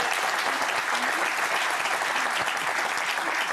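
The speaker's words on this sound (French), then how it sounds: "J'aimerais qu'on l'applaudisse." Studio audience on a French evening talk show applauding a guest actress and singer, a steady, dense wash of clapping that holds evenly throughout without letting up.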